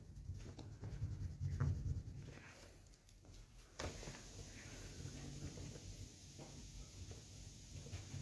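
Colour pencil shading on 180 gsm mixed media sketchbook paper, a soft continuous scratchy rubbing with faint back-and-forth strokes, close and quiet, no talk.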